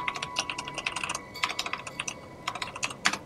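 Fingers tap a computer keyboard in quick irregular bursts of clicking keystrokes with short pauses between them. The clicks are close but fairly quiet over a faint steady tone.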